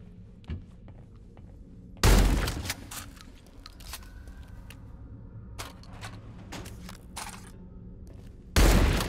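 A player fires a gun in a video game: two loud, sharp reports stand out, one early and one at the end, with faint scattered thumps and a low background hum between them.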